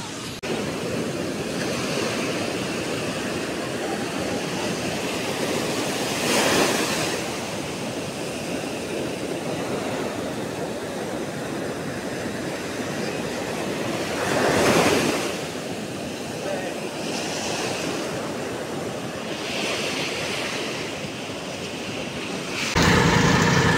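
Large ocean surf rolls in steadily at La Union, where surfers ride the waves, with broad crashing swells recurring every several seconds amid constant wind noise, loud and close.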